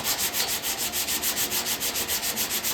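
Body filler on a car panel is worked by hand with 80-grit sandpaper, giving fast, even back-and-forth rasping strokes in a steady rhythm, close and continuous with no voices.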